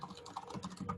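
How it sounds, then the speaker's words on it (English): Quiet, steady typing on a computer keyboard during a Python coding session, a close run of light, irregular key clicks with no one speaking. "Okay, so I'm going to start typing."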